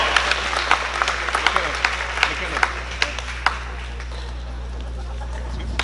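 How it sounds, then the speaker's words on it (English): A crowd claps together, sharp scattered hand claps over a steady low hum, with the applause gradually thinning out toward the end. "Everybody, let's have a round of applause for Blake."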